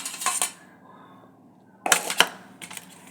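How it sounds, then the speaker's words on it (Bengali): Boiled young sweet pumpkin is mashed with onion, raw oil and burnt chilli on a metal plate, producing a few sharp clinks and scrapes separated by a quiet stretch. "এটা আলাদা থালে মাখছি"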